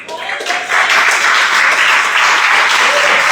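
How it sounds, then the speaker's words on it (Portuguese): A church congregation breaks into applause, a thick, continuous patter of many hands clapping together at full volume, with a few faint voices mixed in. "Pode aplaudir, é para Ele."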